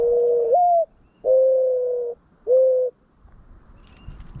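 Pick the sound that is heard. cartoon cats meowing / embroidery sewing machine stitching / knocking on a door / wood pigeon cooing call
wood pigeon cooing call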